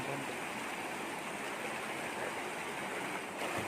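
Bheemarapatti Falls near Tiruvannamalai roars as a steady, broadband rush of falling water, loud and close, unbroken for several seconds with no talk.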